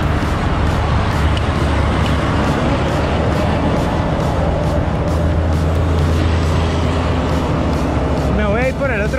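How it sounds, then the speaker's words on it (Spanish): Heavy trucks and cars pass very close along a steep, dangerous uphill highway, a dense continuous roar of engines and tires with rushing wind noise throughout, a person speaking over it. "pasan los camiones bien cerquitas"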